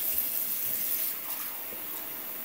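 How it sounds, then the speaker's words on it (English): Water runs steadily from a tap into a Bubble Guppies Molly bath toy, a continuous close splashing rush that eases slightly partway through, with no talk. "And we're going to add the water."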